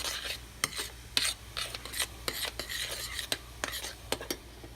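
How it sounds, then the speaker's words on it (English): A spoon stirs a foamy, sticky pudding mixture in a pot, giving rhythmic scraping and rasping strokes close up, several quick sweeps in a row. "Stir it up good, and let it cool down."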